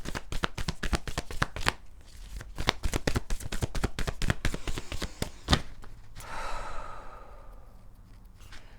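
Starseed Oracle cards being shuffled, a rapid run of crisp riffling card slaps close up, then a softer sliding rustle and a few final taps, with no talking.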